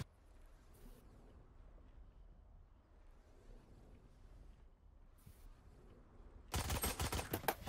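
A rapid burst of gunfire from the video game Valorant erupts near the end after a long quiet stretch of low ambient hum, the shots loud and close in a dense rattling volley, with no talking.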